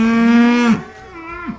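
A cow at a fair gives a loud, close moo, a long steady bellow that drops off, followed by a second, shorter and quieter moo.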